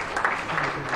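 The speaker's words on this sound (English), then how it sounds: "Let's give Honorable Chamsi another hand clap." An audience at an East African event on constitutionalism and the rule of law applauds Honorable Chamsi. The clapping is steady and fills the whole short moment.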